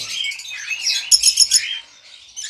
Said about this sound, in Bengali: আপনারা দেখেন যে কত সুন্দর অ্যালবিনো ককাটেল পাখি